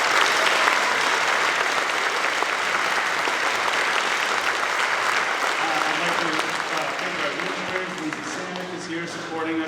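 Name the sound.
applause at school band concert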